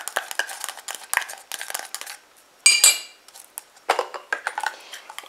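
A utensil stirs a cosmetic body cream with aloe vera gel in a small container, giving a series of close scraping and clinking taps in uneven bursts, with one louder ringing knock midway.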